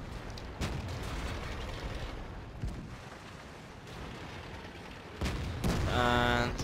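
Tank guns firing in World of Tanks around a T-34-3: a few separate booming shots, fairly faint over a low rumbling battle ambience, with a whining tone near the end.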